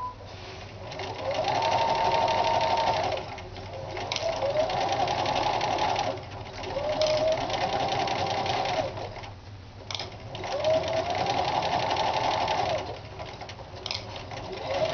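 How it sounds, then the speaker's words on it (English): A sewing machine stitching fabric for a Christian headcovering veil, running in steady whirring bursts of a couple of seconds each with short pauses between, close and fairly loud. "I'm still not sewing anywhere near what the machine's capable of"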